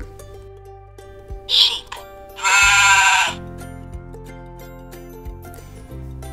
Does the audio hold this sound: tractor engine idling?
no